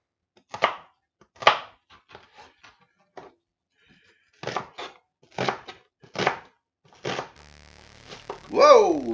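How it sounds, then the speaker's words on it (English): Knife chopping an onion finely on a board in a home kitchen, a series of crisp, close, separate cuts in short bursts with pauses, ending in a brief scraping rattle. "So I'm going to chop this fairly finely."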